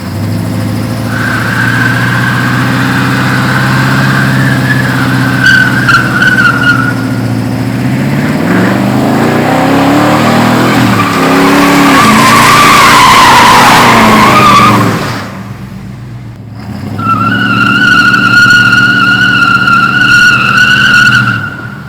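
A car with a freshly repaired transmission does loud burnouts, its engine roaring and tires squealing for about fifteen seconds, then easing briefly before another squealing burst.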